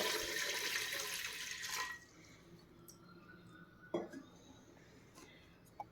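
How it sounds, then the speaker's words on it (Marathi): Water pours from a small pot into a pressure cooker in a home kitchen, a loud gushing splash for about two seconds, then quiet drips and a metallic clink. "कुकरमध्ये अर्धा तांबे पाणी उचलून घेऊयात"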